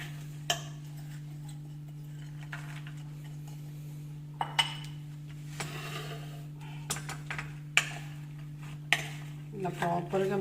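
Cabbage pickle is mixed in a bowl, with scattered clinks and taps of a utensil against the dish over a steady low electrical hum, irregular and close, with no talking.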